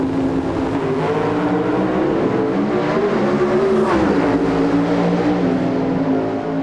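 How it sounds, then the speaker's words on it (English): A pro stock drag racing car's engine revs loudly at the start line at the 1994 NHRA Mid South Nationals in Memphis, a dense sustained roar with the pitch wavering and dipping briefly before climbing again. "The RPMs begin to mount."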